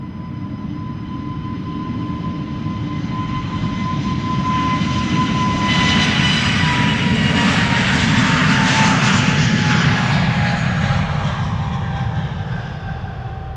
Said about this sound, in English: On its way back to Reykjavik in Iceland, this A320neo, a year old, first flight March 2023, will be turning 2 next month.